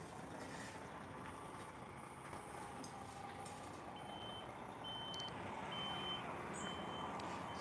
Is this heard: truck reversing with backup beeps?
yes